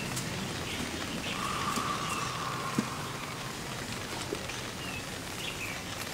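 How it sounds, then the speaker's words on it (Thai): Rain falls steadily outdoors as a soft, constant hiss of drops, with a few faint bird chirps and small knocks scattered through it and no talking. "ฝนตกลูกโป่งมา"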